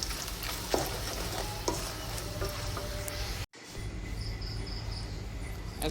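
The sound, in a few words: frying dry chillies and bay leaves in oil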